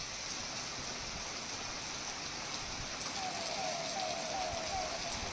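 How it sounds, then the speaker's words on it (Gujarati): The first monsoon rain in Ambaji, Banaskantha, north Gujarat, falls in a steady, dense hiss of drops, continuous and even throughout with no talking. "વરસાદ છે અને વરસાદ પહેલો વરસાદ છે, સારો વરસાદ છે, સતત વરસાદ છે"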